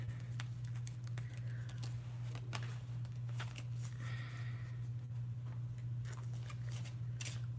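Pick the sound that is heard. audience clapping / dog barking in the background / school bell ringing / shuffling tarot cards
shuffling tarot cards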